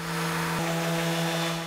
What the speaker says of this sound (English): Now I am wet sanding with 1500 grit.